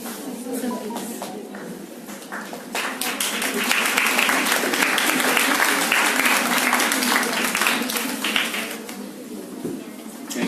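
Audience applause at a student English debate event, a dense, steady wash of many hands clapping that swells midway and holds loud for several seconds before easing slightly.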